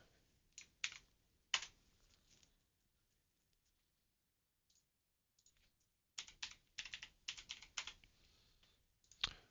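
Bursts of typing on a computer keyboard during a GT3 sim-racing session, quick clattering keystrokes near and clear, with a quiet pause in the middle before the rapid tapping resumes.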